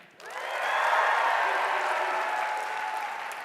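An audience at an Ignite Phoenix evening event applauds in a single steady, even round of clapping that swells quickly and holds for a few seconds, a moderately distant, dense wash with no voices on top.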